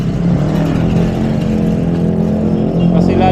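Motorcycle engine droning steadily while riding along a road, a continuous close hum with a person talking over it throughout.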